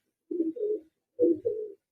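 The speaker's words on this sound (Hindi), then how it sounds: "जो बहुत ही रिजल्टेड और बहुत ही एंटीक कबूतर है" A domestic pigeon of an antique breed coos close by, two soft, low double-note coos separated by a brief pause, against otherwise silent surroundings.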